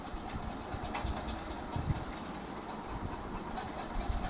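A train rolls along steadily in a video game, a continuous rumbling drone with faint rhythmic clatter and no voices.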